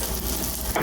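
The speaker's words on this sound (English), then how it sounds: "if the oil sizzles, which this is right here, it's ready to start frying" Eggplant pieces frying in hot oil in a single layer, a dense continuous sizzle, close and steady over a brief moment.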